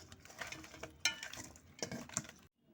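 Fish head is mixed by hand with salt, a little oil and a ginger, garlic and cumin paste, making soft, close squelches and a few light clicks.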